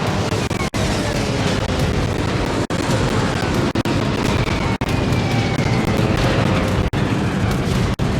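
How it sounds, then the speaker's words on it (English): Aircraft bombs burst near the Tier VIII Soviet battleship Lenin in World of Warships. Heavy booming blasts repeat at roughly even intervals over a constant loud roar of naval combat. "I just barely dodged those bombs"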